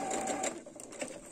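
A domestic sewing machine stitches seams along the edge of the presser foot, a rapid mechanical whirring run that slows and pauses briefly before restarting, heard close up.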